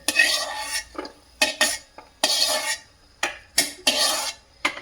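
Cashews roast in ghee in a pan while a spoon scrapes and stirs them in about six rhythmic, close strokes. Each stroke is separated by a brief quiet gap, with a faint sizzle underneath.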